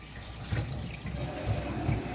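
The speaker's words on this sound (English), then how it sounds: "I'm going to wash my hands again" Hands are washed under a running kitchen tap, a steady hiss and splash of water that stays close and moderately quiet with no talking.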